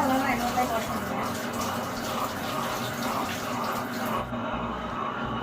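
Millet grains are washed by hand in a vessel of water for idli and dosa batter, giving a steady, close sloshing and swishing throughout, with faint talk in the background.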